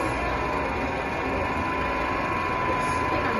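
A DC shunt motor running steadily near its rated 1500 RPM, giving a continuous, even mechanical hum with a faint rattling texture and a steady tone, loud and unbroken with no talk.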